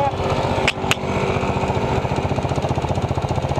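A motorcycle engine runs at a vulcanizing shop after just being started, a loud steady pulsing putter with a couple of sharp knocks early on.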